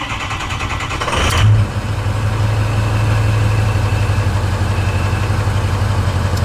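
A Ford 6.0 Power Stroke diesel V8 settles into a steady, close idle after a brief louder rev at the start, with a low rumbling drone throughout.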